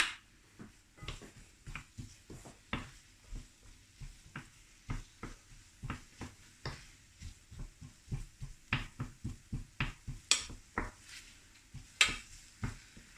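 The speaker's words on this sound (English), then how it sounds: "I'm going to sneak some garlic paste into the onions" Garlic paste being stirred into onions braising on a stove at medium-high heat, heard as a steady rhythm of utensil scrapes and taps against the pan over a quiet sizzle, close and with no talk.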